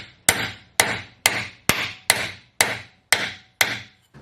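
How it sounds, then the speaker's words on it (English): A chainsaw bar is hammered to straighten a bend, giving nine evenly spaced, sharp metallic strikes close by, each ringing briefly before the next blow. "I am going to try to hammer this out,"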